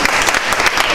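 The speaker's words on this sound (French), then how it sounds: "Je voudrais qu'on applaudisse vraiment les 2 femmes." A brief burst of loud, dense audience applause for two women on a French-language television programme, continuous through the short moment.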